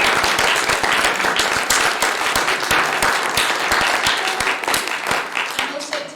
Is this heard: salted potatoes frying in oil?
no